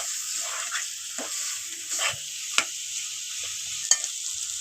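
A spoon scrapes and stirs chicken curry in a pot while it sizzles steadily underneath, with a few sharp clinks of metal against the pot.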